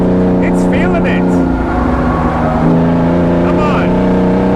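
A straight-piped Lykan Hypersport on a race track gives a loud, continuous engine drone with steady harmonic tones, held close and unbroken for the whole stretch.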